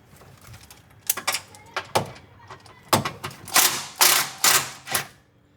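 A ground bolt in the frunk of a Tesla Model Y Juniper is loosened and tightened with a hand tool, giving a close series of sharp ratcheting clicks and metallic scrapes in quick bursts.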